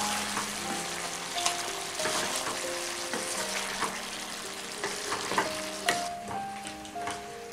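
Chopped onions and tomatoes get stirred together in a hot pan, a continuous soft sizzle overlaid with repeated scraping and clinking from the spoon and faint tonal rings of metal, without any speech.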